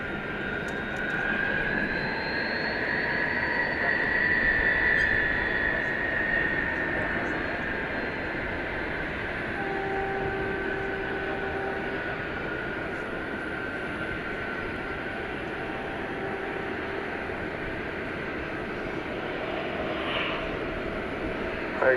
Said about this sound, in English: And this elegant 757 is about to make a turn towards us.